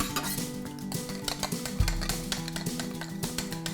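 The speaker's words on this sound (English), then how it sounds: "I'm gonna put a little bit of the hot mixture in with the egg yolks and mix it around." Whisking hot mixture into egg yolks in a bowl: steady utensil clinks and scraping against the bowl, with a brief louder knock partway through and a faint sizzle underneath.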